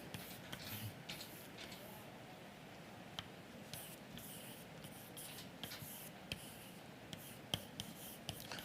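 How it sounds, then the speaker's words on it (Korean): A marker scratches out a word on a board in short strokes and taps, faint and close, in a quiet room with no talking. "영생. 영생 한번 써볼까요? 예. 영생을 이렇게 쓰거든요. 예. 크게 써보겠습니다."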